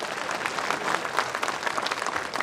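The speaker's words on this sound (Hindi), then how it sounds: "हमारे बीच में एक बार तालियां बजाकर स्वागत करेंगे।" Audience applause at a political nomination rally in Rajasthan, India, welcoming a speaker: steady, dense clapping from a crowd that holds evenly throughout without pause.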